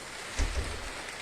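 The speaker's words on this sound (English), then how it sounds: "It's been raining non-stop since we started" Steady patter of rain with a soft low thump near the start, fairly quiet and even throughout, no voices.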